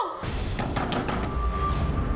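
Someone bangs hard on a locked door, a run of loud, close thuds and knocks repeating over about two seconds indoors, with no other sound standing out.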